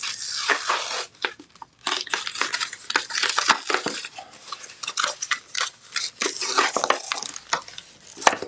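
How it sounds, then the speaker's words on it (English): Foil trading card packs (Pokemon, Panini Prizm and Garbage Pail Kids) being torn and crinkled open by hand, close up: a steady run of sharp, crackly rips and rustles in uneven bursts, no voices. "I'm going to open up one of these packs."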